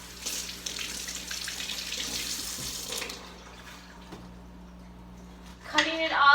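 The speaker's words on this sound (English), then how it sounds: "Let me just rinse this off." Kitchen tap water pours steadily into a sink to rinse a tomato, a continuous splashing hiss that fades after a few seconds, followed by a voice speaking.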